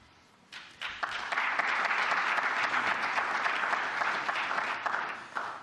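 Sustained applause from a large audience, starting abruptly and holding steady and loud for several seconds before cutting off.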